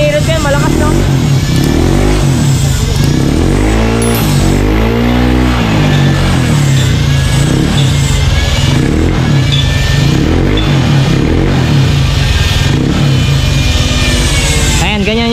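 Honda Click 125i v3 scooter with a modified stock exhaust pipe revving at idle, loud and close, with a steady engine drone and repeated throttle blips rising and falling throughout.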